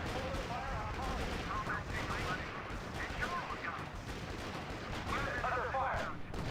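Gunfire crackles in the R.U.S.E. World War II strategy game, with repeated bursts and distant artillery-like thuds layered under a dense, continuous battle din at a moderate, somewhat muffled level.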